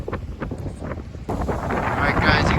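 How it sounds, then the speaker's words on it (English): Strong outdoor wind buffets the microphone in rough, rumbling gusts that swell louder in the second half, with faint indistinct voice fragments early on. "you can see here we got some serious wind kicking up"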